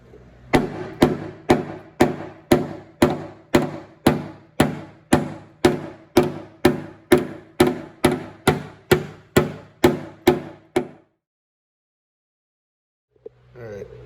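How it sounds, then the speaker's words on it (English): A hammer pounds down welded car body metal in about twenty evenly spaced, loud, ringing blows. The strikes stop near the end, followed by silence and a faint noise. "Alright, so I basically pound those down."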